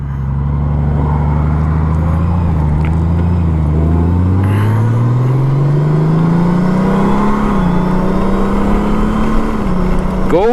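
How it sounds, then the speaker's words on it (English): A motorcycle on a road ride accelerates hard and close, its engine note climbing steadily through rising revs with a gear change partway, loud and continuous throughout. "I love this motorcycle"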